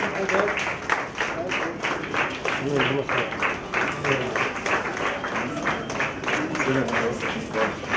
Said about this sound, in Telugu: Srinivas Cloud Garu గట్టిగా చప్పట్లతో మంత్రి వర్యుని ఆహ్వానిద్దాం మన మధ్యలోకి.